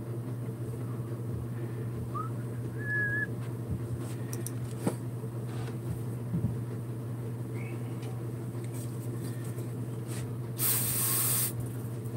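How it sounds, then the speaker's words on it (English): An aerosol can of brake cleaner gives one loud, steady hissing spray of about a second and a half near the end, after a long stretch of quiet workshop hum. "little bit of brake cleaner just to make sure there's no grease in here."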